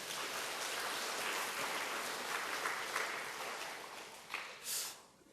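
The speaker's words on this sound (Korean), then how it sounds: "우리 성가대, 우리 박수로 한번 격려 한번 하도록 하겠습니다." A church congregation at a Sunday service applauds the choir, a soft, diffuse patter of many hands that holds steady, then tapers off with a brief swell near the end.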